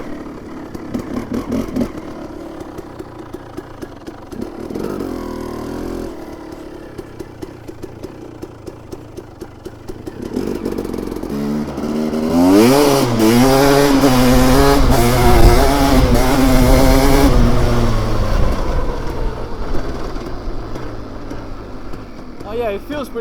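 A KTM 300 two-stroke motorcycle fitted with a Lectron carburetor idles with a rapid putter, then revs up and accelerates in first gear, the engine note rising and holding loud and near.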